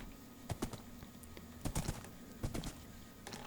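Horse hooves clip-clopping in a blocky sandbox video game while riding, a quick irregular run of light knocks at moderate distance over a quiet steady background hum.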